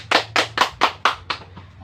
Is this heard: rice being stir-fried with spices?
no